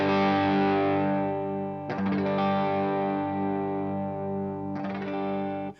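Electric guitar played through a Blackstar Series One Mk II 100W amp at lowered volume, with sustained overdriven chords ringing out and decaying, freshly struck twice more, alone without talk.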